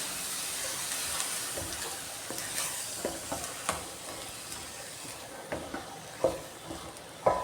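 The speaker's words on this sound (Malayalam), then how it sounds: "എന്നിട്ട് ഇത് നല്ലോണം ഇളക്കി മിക്സ് ചെയ്യാം." Boiled chickpeas turned through masala in a pan for a dry roast, with a continuous hiss and sizzle and repeated spoon scrapes and taps against the metal, close by.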